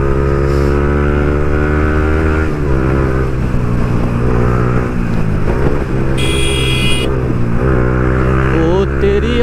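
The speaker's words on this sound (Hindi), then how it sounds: "उधर जा रही है सुपर बाइक्स, कुछ हायाबुसा वगैरह" Superbikes such as the Suzuki Hayabusa ride past, their engines loud and sustained with a deep droning roar and rising revs, one sharp high whine briefly cutting in partway through.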